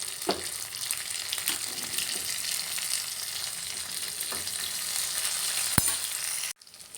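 Thinly sliced onions and green chillies fry in a pan with a continuous soft sizzle, broken by occasional stirring clicks and one sharp knock near the end before the sound cuts out.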